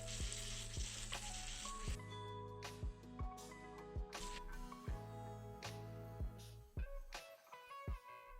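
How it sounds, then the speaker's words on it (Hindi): Stuffed green chillies frying in a pan over a medium flame, a steady oil sizzle punctuated by repeated sharp clinks and scrapes as they are turned and flipped. "अब हम मिर्चियों को इस प्रकार से उलटते पलटते मीडियम आंच में फ्राई कर लेते हैं।"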